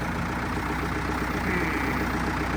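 A Ford 5000 diesel tractor engine runs roughly as if starved of fuel, giving a steady, close, chugging diesel drone with no voices over it.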